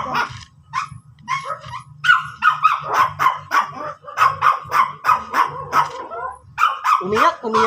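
Dogs Luna and Ragnar cry out during a breeding session, with a run of loud, rhythmic yelps and whining cries repeating close by in quick succession.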